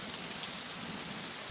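Heavy rainstorm sound effect in an Indonesian audio drama: dense, constant downpour hiss with rain spattering on surfaces, steady and unbroken, no voices.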